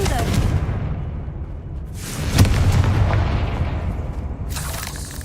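A Confringo blasting spell goes off in Hogwarts Legacy, a deep booming explosion that swells midway through a dense, rumbling game soundscape, with a voice briefly present.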